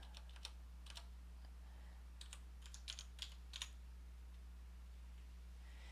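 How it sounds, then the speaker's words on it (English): Keys on a computer keyboard are tapped in short, faint, scattered clusters of clicks over a quiet background hum, with no one speaking. "in the search box let's type"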